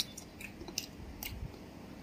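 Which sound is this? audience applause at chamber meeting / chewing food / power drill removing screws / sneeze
chewing food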